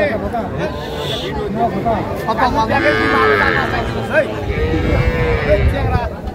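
Small bulls and heifer calves at a livestock market, several close, drawn-out moos over a constant crowd babble with people talking nearby.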